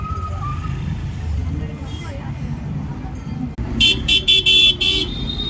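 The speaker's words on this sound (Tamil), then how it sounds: "நிறைய டிராஃபிக்" Busy road traffic near a crowded temple on Shivaratri night, with a steady rumble of passing vehicles and, toward the end, a burst of several sharp, close car horn honks.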